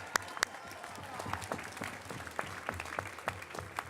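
A crowd at a Fourth of July Declaration of Independence reading at the National Archives applauds with distinct, scattered claps over a soft wash of clapping, heard from some distance and fairly quiet throughout.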